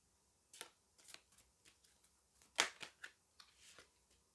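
Oracle cards are shuffled by hand for a reading, a series of soft, quick riffling flicks and taps at an uneven rhythm, close and quiet with no talk over them.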